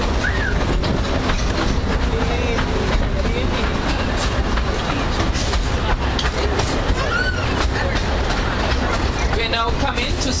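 A passenger train runs steadily on rails past a close-walled overhead footbridge, its continuous rumble and clatter loud and near throughout, with faint squeals riding over the noise.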